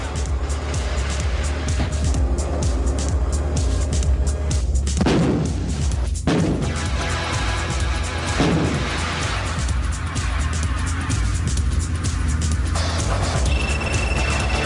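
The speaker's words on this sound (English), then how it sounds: "South Africa's massive G6 howitzer, which employs a semi-automatic loader that can fire up to 4 rounds per minute" A South African G6 howitzer, a large wheeled gun with a semi-automatic loader, fires in heavy booming blasts that stand out against constant loud rumbling noise, with a few sharp reports.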